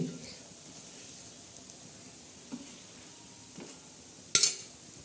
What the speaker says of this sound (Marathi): धिरडं आपल्या कसं तयार भाजत आहे आता चांगलं भाजू द्यायचं त्याला लगेच काढायचं नाही